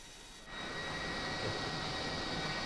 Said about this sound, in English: I'm going to get on the UAV and see what I can see.